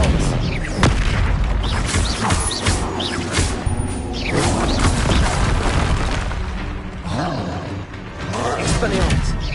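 Expelliarmus disarming spell in Hogwarts Legacy, heavy booming impacts with whooshing swipes and crashes, repeated in loud bursts amid busy combat noise, with voices calling out over them.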